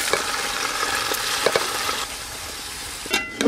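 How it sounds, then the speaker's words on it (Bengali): Soaked rice tossed with spices in a hot pot for pea pulao, a steady sizzle and scraping stir running throughout at moderate level, with a few sharper clinks of the spoon near the end. "এবার খুব ভালো করে একসঙ্গে মিশিয়ে নেব।"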